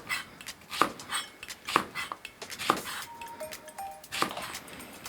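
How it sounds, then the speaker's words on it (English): A knife slicing vegetables diagonally on a cutting board, several distinct close chops spaced about a second apart over light kitchen background noise, no talking. "cut them diagonally."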